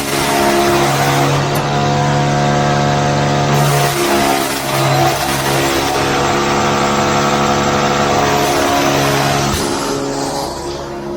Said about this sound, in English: As you can hear now, I got the sharpening stone running.